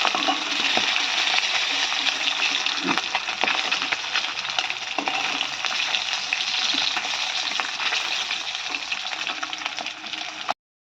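Fish frying in a pan, a dense steady sizzle up close with scattered crackles and occasional spatula scrapes, stopping abruptly at the end.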